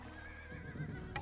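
A horse whinnies in the Age of Empires II: Definitive Edition strategy game, a short wavering neigh over busy in-game background sound, with a brief brighter burst near the end.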